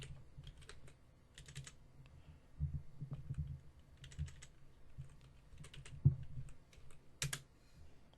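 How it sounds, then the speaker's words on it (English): Someone types on a computer keyboard in short, quiet bursts of clicking with brief pauses between, faint and close, with a low hum beneath and no talking. "Need to actually type it correctly."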